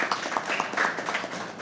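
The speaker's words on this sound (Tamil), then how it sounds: "உங்களுடைய உற்சாகமான கரகோஷங்கள்." An audience applauds at a school debate competition, a steady patter of many hands clapping at moderate volume throughout, with a hint of voices mixed in.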